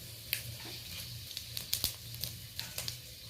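Panch phoron spices sizzling in about two spoons of hot oil in a wok, a faint steady fry with scattered small crackles and pops, without talk.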